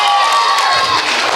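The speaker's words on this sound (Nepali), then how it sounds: "समाजको लागि एक ताली, समाजको यो प्रगतिको लागि" A live comedy stage show audience breaks into loud, dense cheering and clapping, a brief full roar of the crowd heard up close.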